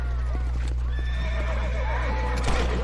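Horses whinny and neigh over soft clip-clopping hooves at a ranch corral in the Red Dead Redemption game, close and clear against a steady low background hum, with a sharp thud near the end.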